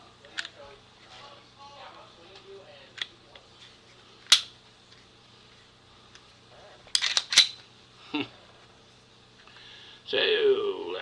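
Brand new Ruger RXM pistol being taken down by hand: scattered sharp metallic clicks and snaps, a few louder ones, spaced out over quiet stretches with soft talk.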